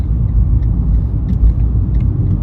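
A 2014 Fiat 500 0.9 TwinAir twin-cylinder engine hums and rumbles steadily from inside the cabin while driving, with a low, continuous drone and faint road noise.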